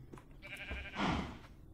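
A single sheep bleat in a video game, a short wavering cry near and moderately loud over light background noise.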